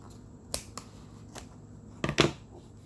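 Scissors snip through the excess seam of danceline boots, leaving the foam in place: a few sharp, close cuts spaced apart, with a quick double snip near the end.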